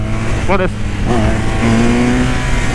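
A BMW R1200 motorcycle engine revs up close, its rising pitch climbing briefly before settling back to a steady idle drone, with someone talking over it.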